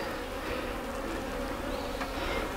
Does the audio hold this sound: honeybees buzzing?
yes